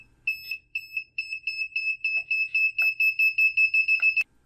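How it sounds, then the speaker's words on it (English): The buzzer on an Arduino obstacle-detecting walking stick beeps with a high, piercing tone, the beeps coming closer together as the obstacle nears and ending in a rapid, nearly continuous run. "A buzzer beeps faster as the obstacle gets closer, giving an audible warning to the user."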